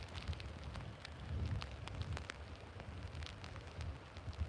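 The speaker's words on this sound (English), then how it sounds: "Oh, here comes the rain." Rain begins falling over an open horse field, a steady broadband patter of drops on the ground and surroundings, moderately close and continuous with no talk.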